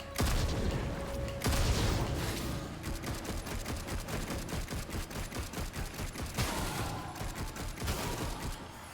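Gunfire from the hack-and-slash video game Darksiders Genesis as zombies are shot, dense rapid bursts of loud shots and impacts crackling continuously with heavier booms near the start and later.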